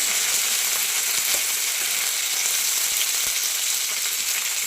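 Curry leaves, dried red chilies and onion crackle and sizzle steadily in hot oil for okra fry, a dense, even frying hiss with faint scattered pops, close and continuous, with no voices.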